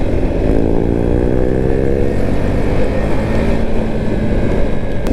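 A Husqvarna Vitpilen or Svartpilen motorcycle being ridden, a steady, loud engine drone with constant wind rush throughout, no talking.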